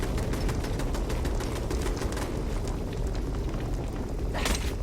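Automated turret fire in the Fallout 76 Nuclear Winter battle royale, a rapid stream of shots over a heavy rumbling low end, steady and continuous, with a sharper burst near the end.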